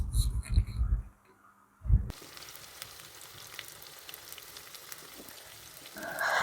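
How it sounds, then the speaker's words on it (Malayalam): Marinated chicken pieces fry in hot oil with a steady, soft crackling sizzle. It is preceded by a brief burst of louder bumping and handling noise, and a brighter hiss rises at the end. "അപ്പോൾ ചിക്കൻ മുഴുവനും ഞാനിവിടെ ഫ്രൈ ചെയ്യാൻ വേണ്ടി വെച്ചിട്ടുണ്ട്."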